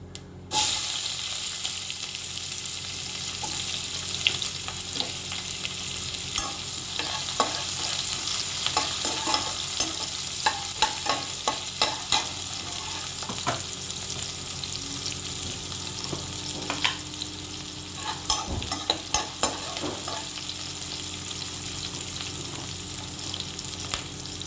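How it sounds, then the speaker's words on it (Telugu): Cumin seeds and onions fry in a pan while being stirred, a continuous close sizzle broken by frequent scraping and clinking of the spoon against the pan throughout. "దానికి ఫస్ట్ కొమెన్ సీడ్స్ వేసి వేయించుకోవాలి"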